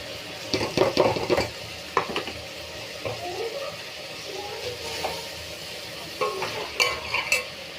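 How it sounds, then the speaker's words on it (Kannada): Spices and chili powder frying for a tomato and capsicum curry, with close, loud stirring scrapes in bursts over a constant sizzle. "ಚೆನ್ನಾಗಿ ಫ್ರೈ ಮಾಡಬೇಕು."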